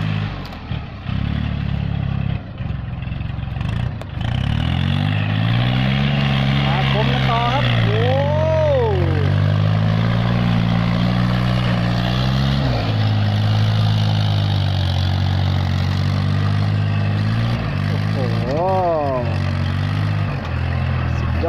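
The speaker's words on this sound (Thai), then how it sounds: "เป็นเครื่องยนต์ 3 สูบนะครับ รถรุ่นนี้นะฮะ" A three-cylinder tractor engine runs with a steady low throb, revving up and down several times with whining pitch swings, loud and close throughout.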